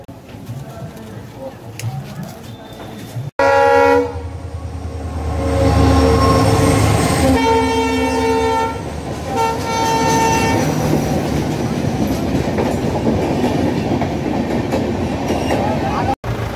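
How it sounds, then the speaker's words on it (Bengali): Train crossing near a bridge at a railway level crossing, passing close and loud with a horn blast, rumbling wheels and squeals, under talk from people waiting at the lowered gate. "রেলগেট পড়ে গেছে, যার জন্য দাঁড়িয়ে রয়েছি, আটকে গেছি। এই যে রেল লাইন, আর ওইদিকে ব্রিজ, ট্রেন যাবে এক্ষুনি।"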